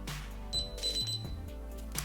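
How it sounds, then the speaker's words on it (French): A DSC Power Series alarm system sounds faint, thin electronic arming beeps over a steady low hum, with a few short high tones in the middle of the stretch. "je peux maintenant armer le système d'alarme"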